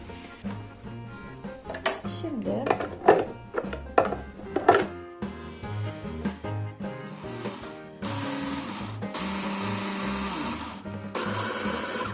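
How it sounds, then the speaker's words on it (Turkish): A food processor chopping peeled tomatoes pulses in short bursts with whirring and chopping clatter, then runs in longer continuous whirring spells. "Domatesleri rondodan geçireceğim."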